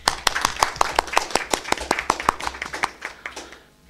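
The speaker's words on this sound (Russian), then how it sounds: "И думаю, что аплодисменты будут в 2 раза громче и больше." Clapping at an awards ceremony for natural cosmetics, a sparse run of distinct, sharp handclaps in an irregular rhythm that fades out at the end.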